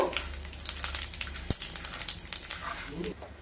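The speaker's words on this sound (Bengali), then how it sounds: "2টো শুকনো লঙ্কা, একটা তেজপাতা, আর দিয়ে দেব 1 চামচ 5 ফোড়ন। একটু নেড়ে নেব।" Dry red chillies, a bay leaf and five-spice seeds frying in oil for Bengali lau shukto, giving soft crackles and pops over a low sizzle, with one sharp snap partway through.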